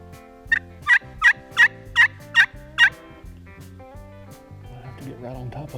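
A wild turkey gobbles at dusk in Alabama, with about seven rapid, fairly distant calls in a row, followed by quiet soft rustling.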